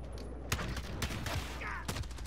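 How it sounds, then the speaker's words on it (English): Revolver fire in Call of Duty: Modern Warfare on the Shipment map, three sharp loud gunshots spaced unevenly over a couple of seconds amid a busy game mix. "Revolver."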